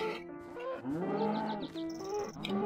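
A Minecraft cow moos in a low, drawn-out call with a wavering pitch, fairly close and clear, lasting most of the moment while faint game sounds sit underneath.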